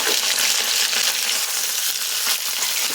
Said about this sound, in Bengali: কাঁচা কলা দিয়ে এখন সবজিগুলো ভেজে নিচ্ছি।